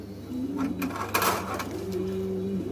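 Yellow Lahori pigeons cooing close by, two drawn-out throaty coos with a brief rustle and clatter between them, fairly loud over a low background hum.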